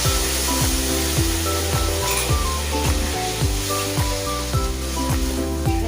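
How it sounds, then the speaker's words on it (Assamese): Water poured into a hot pan of fried bottle gourd sets off a steady, broad sizzle, heard under continuous rhythmic background music with no talking. "পানীখিনি ঢালি দিওঁ"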